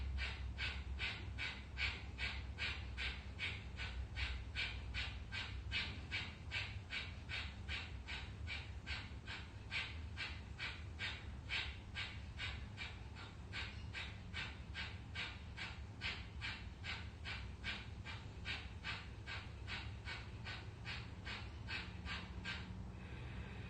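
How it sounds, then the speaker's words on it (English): Kapalabhati yogic breathing, rapid rhythmic forceful nasal exhalations repeated steadily about two per second for roughly 23 seconds, close and clear over a low steady background hum, ending abruptly. "And once again, Kapalabhati for 48."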